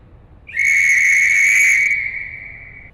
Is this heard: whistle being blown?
yes